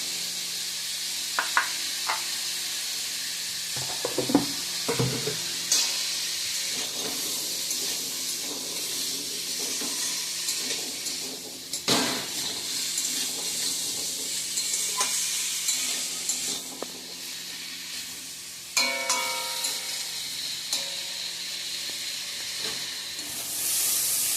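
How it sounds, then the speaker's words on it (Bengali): Pumpkin pieces fry in a pan with a steady close sizzle while a utensil stirs and scrapes at intervals, with no talking. "আমার কুমড়া ভাজাটা হয়ে গেছে, এখন নামিয়ে নেব।"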